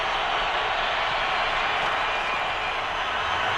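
A frenzied crowd roars steadily inside a football stadium in Denver, a dense, continuous wash of cheering with no breaks, loud and even throughout.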